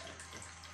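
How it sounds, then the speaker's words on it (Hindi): Water pours from a pressurised bottle into a container, a soft steady trickle and splash heard close and faint, with no talking. "इस बॉटल का पानी इस डब्बे में आ रहा है।"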